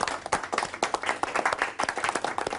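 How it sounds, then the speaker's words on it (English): A rugby team gathered indoors claps in thanks for Andy, a short burst of brisk, close individual hand claps with an uneven rhythm and no talking. "I think we need to give Andy a round of applause and say thanks."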